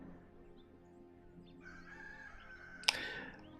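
A cockerel crows in the background, one drawn-out call rising mid-clip and ending with a sharper burst, faint and distant over a steady low hum.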